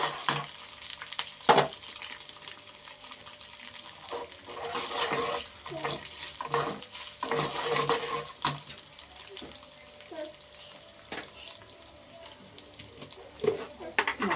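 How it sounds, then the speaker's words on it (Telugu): Tempering spices sizzle and pop in hot oil in a quiet kitchen, with a soft ongoing hiss broken by scattered sharp crackles and a few louder pops. "పోపులు ఎగుతున్నాయి."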